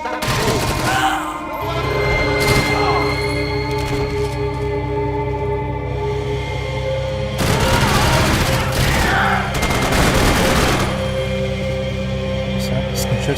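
Gunfire in the video game Max Payne 3: sharp shots crack out in a couple of clustered bursts over a steady droning game background, loud and close, with some speech mixed in.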